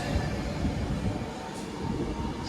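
Steady low rumble of a passenger train idling or moving slowly beside a platform at Watford Junction station, with faint metallic hiss and squeal near the end; no talking.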